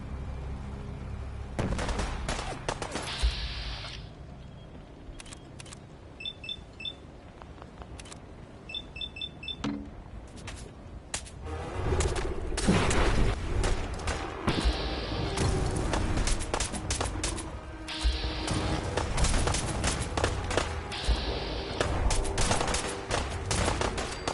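Rapid gunfire bursts from Fallout 4 combat crack out in dense volleys, loud and close, mixed with sharp electronic beeps, building into sustained heavy fire with no one talking.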